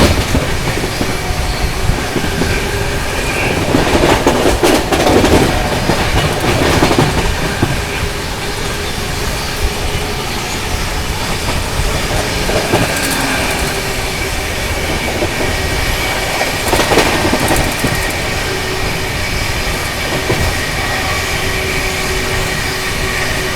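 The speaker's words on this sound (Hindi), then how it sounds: "रतलाम से निकलते क्या ही बढ़िया रफ्तार बनाई है भाई अपनी दुरंतो एक्सप्रेस ने।" Duronto Express train running at high speed after leaving Ratlam, with a continuous loud roar and rhythmic clickety-clack of wheels over rail joints and occasional louder rattles, heard from inside the coach.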